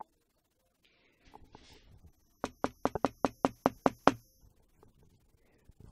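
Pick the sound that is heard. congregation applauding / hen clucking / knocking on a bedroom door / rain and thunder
knocking on a bedroom door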